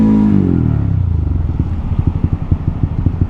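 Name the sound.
motorcycle riding past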